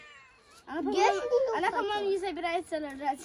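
A pregnant domestic cat meows repeatedly and insistently in drawn-out, wavering cries, close by, while someone talks over part of it.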